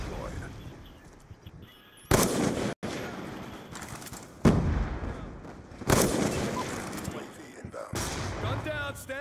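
Gunfire and heavy blasts from a C4 explosive in a first-person shooter, with several sharp broadband bursts spaced across the clip, the loudest booming in near and clear over a low ambient bed.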